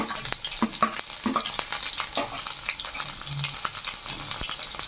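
Cumin, curry leaves, garlic, green chili and onion fry in hot oil for a Maharashtrian eggplant bharit, giving a close, continuous sizzle broken by frequent stirring scrapes and spoon taps.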